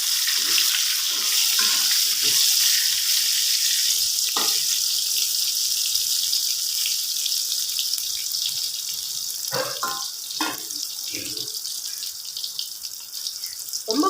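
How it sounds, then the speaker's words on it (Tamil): Brinjal pieces frying in a pan for brinjal thokku, giving a steady, dense hiss of oil throughout with a few soft clinks and scrapes of a utensil against the pan. "கத்திரிக்காவை நம்ம ஃப்ரை பண்ணி எடுத்துக்கலாம்."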